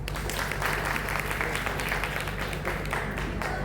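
Applause from guests at a birthday get-together: a continuous, fairly soft patter of many hands clapping that holds an even level throughout, with faint voices underneath.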